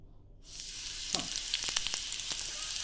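Ginger and garlic drop into hot oil and start frying, with a sudden sizzle after a brief silence, then steady crackling and small popping spatters close by.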